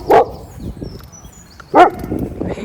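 A dog gives two sharp, loud barks about a second and a half apart, with quieter rustling and faint movement between them.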